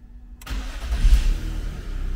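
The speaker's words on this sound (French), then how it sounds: "On démarre la voiture." A BMW car engine, an E46, E39, E36 or E34 fresh from a clutch replacement, cranks and fires after a brief silence, then settles into a loud, steady running rumble.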